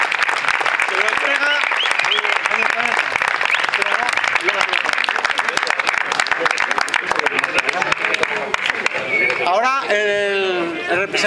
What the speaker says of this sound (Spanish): Yo creo que se merece un aplauso el chaval.